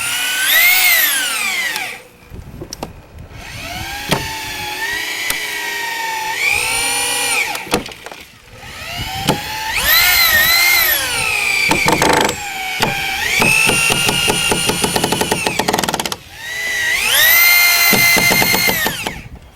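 A power drill drives 3-inch screws into wood studs while a halfpipe deck frame is built, in repeated whirring bursts that rise and fall in pitch, separated by short pauses, loud and close with no talk.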